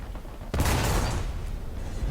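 Tank cannon fire in the War Thunder video game, heard as a sudden loud blast that gives way to a sustained roar of gunfire and rumble, with no talking.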